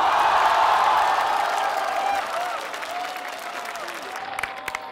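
Audience applause with some cheering and whoops at a Chinese singing competition show, as a singer is welcomed to the stage to perform a song; loud sustained clapping that gradually eases off.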